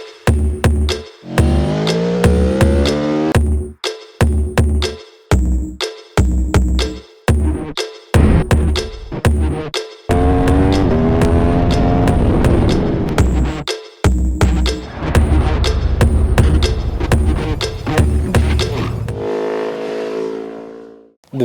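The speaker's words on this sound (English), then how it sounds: "Every time you push this bike, a large roar will come from the exhaust." An Aprilia Tuono V4 motorcycle's V4 engine roars loudly through its exhaust, with repeated hard revving bursts broken by brief gaps during gear shifts, close and continuous for about twenty seconds.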